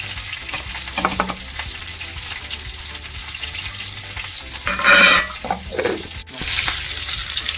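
Vegetables fry in a pan for navaratna korma, giving a steady close sizzle with occasional stirring scrapes and a brief louder gush of water midway, with no speech.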